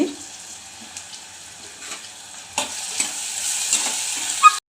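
Ingredients fry in a pan for a mutton and chicken curry, a soft sizzle that grows louder and brighter partway through, with scattered stirring clinks up close and no talking.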